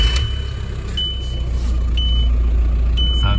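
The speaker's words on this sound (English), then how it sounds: "We start the car up." A VW Transporter TDI van engine runs at a steady idle right after starting, a loud close low diesel rumble with a repeating high beep sounding about once a second.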